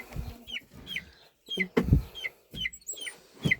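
Older chickens cluck and squawk in short bursts near the microphone, several calls spread across the moment with brief pauses between, with no talking.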